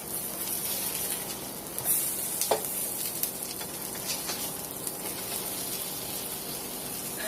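Spinach pancakes cook in butter in a pan with a faint, even sizzle, broken by a couple of brief sharper crackles and taps.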